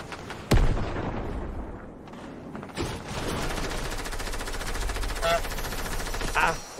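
A shotgun fires in Fortnite: a sharp, loud blast, then a second one a couple of seconds later, over continuous busy game noise with smaller crackles and pops.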